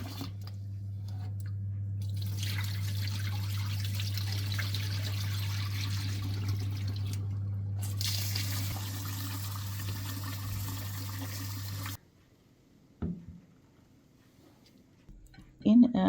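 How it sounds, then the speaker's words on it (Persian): Rice being washed and water added for a saffron chicken tahchin: a steady run of liquid sloshing and trickling, then quieter scattered drips and clinks near the end. "برنج رو میشوریم و مقداری آب اضافه میکنیم"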